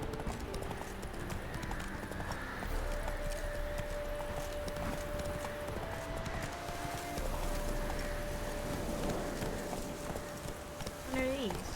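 Horse hooves clip-clopping at a steady gallop in The Witcher 3, with an occasional whinny, set over a continuous game music bed and ambient noise; a voice speaks briefly.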